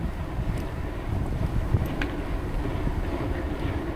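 Steady, loud wind buffets the microphone while riding a Sole e(24) ebike into a headwind at speed, a continuous low roaring rumble with no break and no talk.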